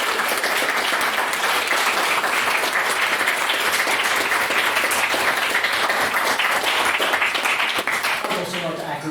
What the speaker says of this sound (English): I certainly send a round of applause